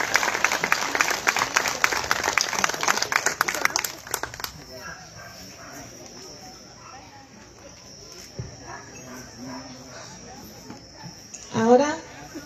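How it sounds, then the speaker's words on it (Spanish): Family and friends at a wedding ceremony applauding, a dense burst of clapping that fades out after a few seconds, leaving quiet room sound with brief movement. "Le damos un fuerte aplauso, familiares y amigos."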